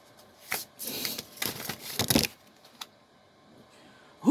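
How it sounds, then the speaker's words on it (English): Tarot cards being shuffled by hand, several quick papery riffles and slaps in short bursts, close and fairly quiet, with pauses between. "Let's give this a good shuffle"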